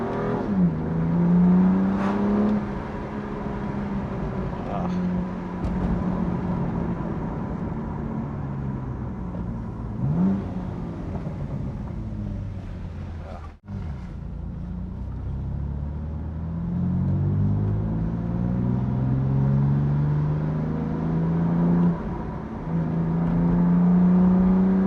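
A BMW M2 Competition's engine burbles and rumbles deeply while driving, its note rising and falling through gear changes and throttle, with one sharp pop-like break midway, heard from inside the car with no talk.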